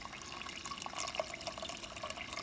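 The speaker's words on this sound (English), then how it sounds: "I'm going to add enough hot water in there to kind of just cover the meat" Hot water poured into a pot to cover meat for a curry: a steady, splashing trickle of liquid, close and moderately quiet, continuous with no talking.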